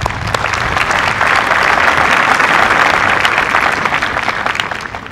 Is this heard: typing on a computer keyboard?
no